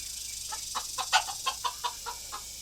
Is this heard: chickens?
yes